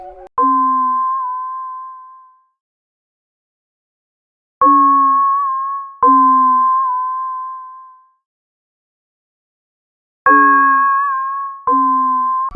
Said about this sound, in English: I actually layered two bell one shots together, so here's what they sound like